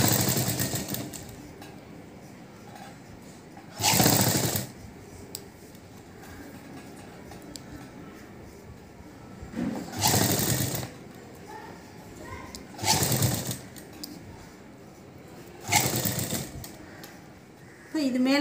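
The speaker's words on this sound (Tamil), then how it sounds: "நம்ம முதல் இந்த ஓரத்தில் தச்சுக்கிடுவோம், அதுக்கப்புறம் இங்கே தைக்கலாம்." Sewing machine stitching lace onto a blouse's back neck, several short whirring bursts of a few seconds each separated by pauses, with someone talking quietly in between.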